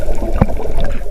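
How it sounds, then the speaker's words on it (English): A cartoon boat sinks to the bottom of a river, a short burst of gurgling, bubbling water rising in the middle of steady watery background noise. "The boat sinks to the bottom of the river."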